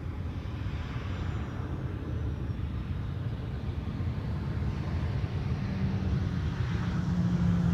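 An airliner landing at Amsterdam Schiphol Airport gives a low, distant rumble with wind buffeting the microphone, slowly building in loudness.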